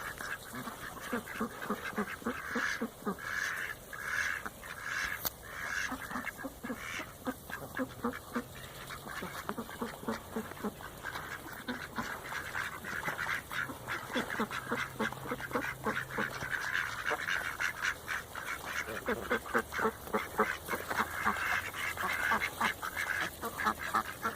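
A flock of ducks, with many males among them, quacks continuously during a feeding frenzy, the calls overlapping in dense, rapid bursts and building louder toward the end.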